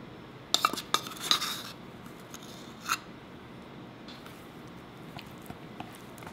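Cornbread batter being mixed in a bowl with a utensil after baking powder is added, giving faint scraping and a few sharper clinks against the bowl.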